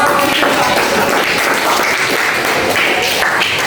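A high school class claps together in a steady, loud burst of close applause filling the room without pause.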